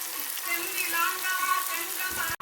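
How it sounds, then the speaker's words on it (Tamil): Tempering spices fry in a pan for a dal curry, giving a steady, fairly quiet sizzling hiss throughout, with a brief clatter right at the end. "கொஞ்சம் பருப்பு கறிக்கு தாளி போகணும் நான் தாளித்து கொண்டு வைக்கிறேன் வதங்கி வரட்டும்"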